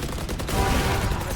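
Rapid burst of gunfire in the first-person shooter Valorant during a blind kill, loud and close, a dense volley of shots filling the short moment with no pause.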